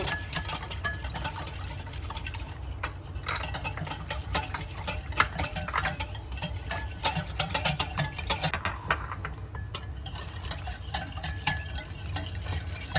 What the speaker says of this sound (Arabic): وبعدين هنقلبهم، نقلبهم كويس جدا كده